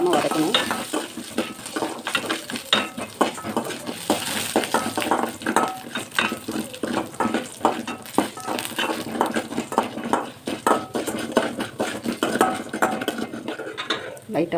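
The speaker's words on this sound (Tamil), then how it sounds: "கருகிடாமல் வதக்கணும்." Tomato chutney ingredients sautéing in two spoons of oil in a pan, a close, steady sizzle broken by frequent scraping stirs and metallic clinks of the spoon against the pan, with no talking.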